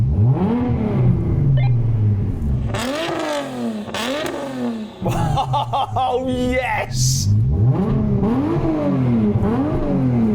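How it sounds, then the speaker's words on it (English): A powerful Nissan GT-R engine revs hard in several loud bursts, each rising sharply then dropping back, with a brief excited shout between them. "I'm going to rev up this beast of a machine."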